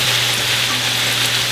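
Steady, loud sizzling of onions and peppers frying in a pan, a continuous crackling hiss with no talking.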